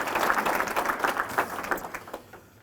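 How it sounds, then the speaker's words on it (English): A breakfast audience at an Irish chamber of commerce event gives a burst of close, lively applause that starts full and tapers off into a few scattered claps over under three seconds. "give yourselves a round of applause."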